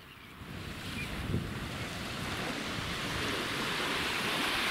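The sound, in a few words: sea waves on shore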